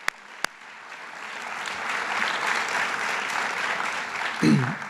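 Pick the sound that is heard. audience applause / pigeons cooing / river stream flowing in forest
audience applause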